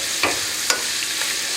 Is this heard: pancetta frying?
yes